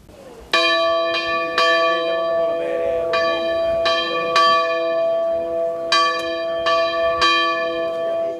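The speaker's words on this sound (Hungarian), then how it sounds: "Harangszó jelezte, hogy hamarosan kezdetét veszi a Szent Mise a Makó Bogárzói katolikus templomban" Church bells ring out at the Makó-Bogárzó Catholic church ahead of Holy Mass, loud resonant strokes struck in an irregular sequence with long ringing tones that overlap and sustain between hits, heard alone and close.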